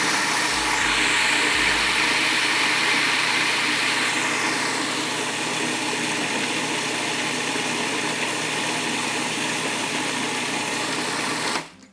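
A kitchen machine mixes dough in a bowl with a steady, close motor hum and churning drone that runs unbroken for the whole stretch, then cuts off abruptly at the end.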